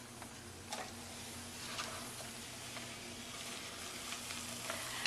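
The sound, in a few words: cauliflower frying in oil in a pan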